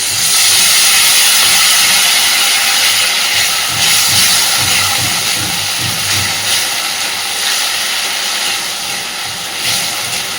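Water poured into a hot pan of spiced fish curry with crushed garlic, a loud, continuous close hiss of steam and sizzle that slowly eases off over about ten seconds, no voices.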